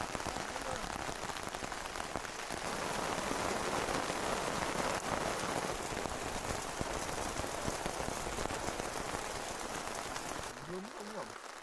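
Sudden rain shower in the Benguet mountains patters steadily and densely on surfaces for several seconds, close and fairly loud, easing slightly near the end.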